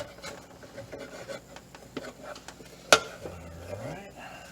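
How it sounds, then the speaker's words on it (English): A wooden spatula scrapes peanut butter down the sidewalls of a blender jar while making a smoothie, giving repeated soft rubbing and scraping strokes with one sharp knock against the container, close up. "take your little wooden spatula, just kind of push it down out of the way"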